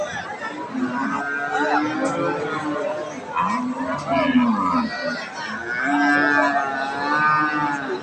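A pregnant Jersey Friesian cross cow at a cattle market lets out several loud, drawn-out moos close by, with people talking and crowd chatter throughout.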